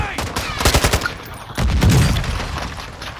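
Gunfire and a grenade blast in Call of Duty MWII Resurgence: a rapid burst of shots opens, then a heavy booming explosion rolls out and decays over the last second or two.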